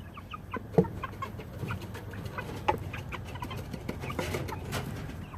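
Farm chickens clucking nearby in a steady scatter of short calls and chatter, with a few louder clucks rising over the flock.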